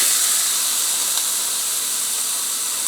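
Marinated Brazilian-style steaks on a grill set on high, making a loud, steady sizzling hiss that stays even from start to finish with no talking.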